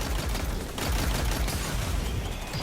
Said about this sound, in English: Since we're using an arc machine gun, we'll be using that of course a lot in this area